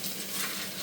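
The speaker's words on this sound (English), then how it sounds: "I hear a nice sizzle" Chicken cutlet frying in a pan, a dense, steady sizzle with soft crackle, close and moderately loud, with no voices.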